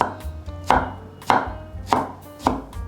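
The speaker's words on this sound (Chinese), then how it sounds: "把金针菇切碎" Knife chopping enoki mushrooms on a board, five crisp close thuds spaced about half a second apart, clear and alone with no voices.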